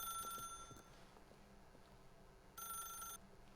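Telephone ringing in the video game The Stanley Parable: two separate bursts of a bright, trilling electronic bell, one at the start and one near the end, with quiet game ambience between and no speech.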